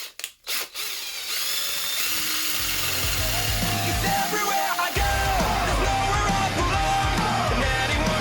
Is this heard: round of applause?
no